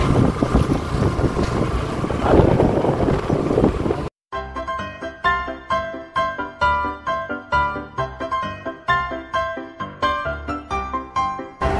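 Strong wind gusts roar and buffet the microphone of a moving car for several seconds before an abrupt cut to rhythmic background music.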